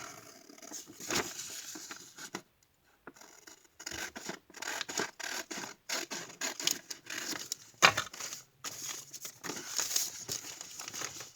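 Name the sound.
cutting with big scissors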